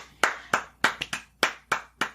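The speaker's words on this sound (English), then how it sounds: "Clap for the kids" A single pair of hands claps about eight times at an uneven pace, close and crisp, each clap sharp and brief with short gaps between, in otherwise quiet surroundings.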